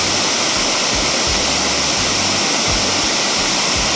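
A roadside waterfall seen while cycling on a rainy evening gives a steady, loud broadband rush of falling water, with low thumps from passing wind or road noise underneath.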